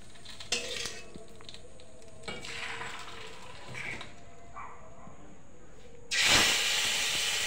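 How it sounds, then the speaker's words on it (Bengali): Faint clinks and stirring in a kitchen give way to a sudden loud burst of hissing sizzle as hot oil tempered with white cumin and two bay leaves is poured over fish in a bowl for a mustard fish curry. "তেলটা নামিয়ে দেবো বাটির মাছের ভিতর।"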